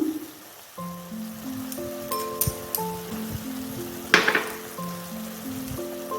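Spinach frying in a pan gives a soft crackling sizzle with scattered pops and a louder stirring burst midway, over a steady background tone.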